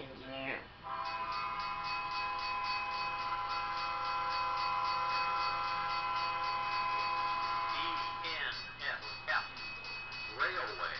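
Train horn of a BNSF intermodal train in the video game Trainz Simulator 12, one long sustained blast that sounds loud and close, then breaks off into people talking.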